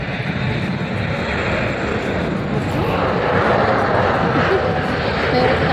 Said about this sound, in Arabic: طيارة بتعدي من فوقنا عملاقة